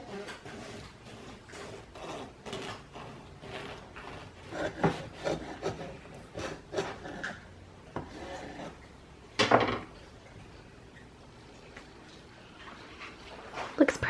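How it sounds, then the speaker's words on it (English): Warm, fluffy homemade Amish white bread loaf being sliced with a knife in a home kitchen, giving a run of soft, close rasping saw strokes with light knocks against the cutting board and a sharper clatter near the end. "Let me cut a few more slices."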